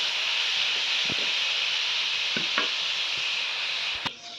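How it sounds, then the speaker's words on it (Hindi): Grated carrots fry in ghee for carrot halwa, giving a steady, close sizzle with a few soft stirring knocks and scrapes throughout, and a brief clatter near the end. "ये देखिए गाजर हमारी अच्छे से फ्राई होगी"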